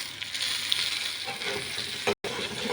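Pork curry sizzles steadily in a hot pan while a spoon stirs through the meat, tomatoes and chillies, a continuous close frying hiss with a short break near the end.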